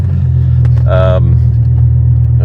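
BMW E46 M3 fitted with an S85 V10 engine, its deep steady idle rumble rising briefly into a loud rev with bright harmonic whine, heard nearby outdoors with faint voices under it.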